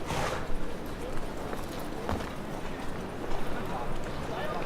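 Horse hooves clip-clop in The Witcher 3, a steady run of soft thuds throughout, heard under game sound and someone talking in French.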